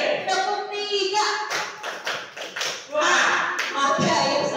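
Children in a classroom perform a rhythmic clapping game pattern, a short burst of near hand claps and taps mixed with chanting voices.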